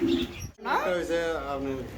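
A pair of pink-beaked pigeons offered for sale coo close by, with a soft rising and falling call over about a second and a half, after a brief gap, over a steady background.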